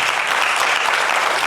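An audience at a conference and debate applauds a guest, a dense, steady burst of clapping from a full room, loud and sustained with no voices over it.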